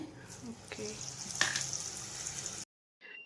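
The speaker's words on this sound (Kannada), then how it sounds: "ಈ ರೀತಿ ಎಣ್ಣೆ ತುಂಬ ಚೆನ್ನಾಗಿ ಕಾದ ಮೇಲೆ ಈ ರೀತಿ ನಿಧಾನವಾಗಿ ಒಂದೊಂದೇ ಹಾಕಿ" Chakli dough pieces sizzle steadily in hot oil, a close, continuous crackling fry with a few brief clinks, then a sudden cut to near silence before a short return of sizzling.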